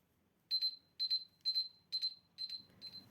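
A kitchen timer goes off with six shrill, evenly spaced double beeps, close and clear against a near-silent background, with a faint rustle after the last one.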